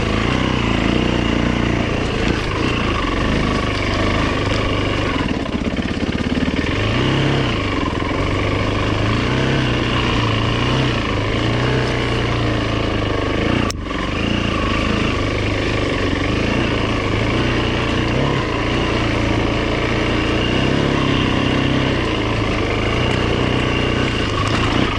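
A 2008 Yamaha WR450F dirt bike engine idles steadily and fairly high nearby, a continuous buzzing drone with a slight uneven pulse that runs unbroken, with no talk over it.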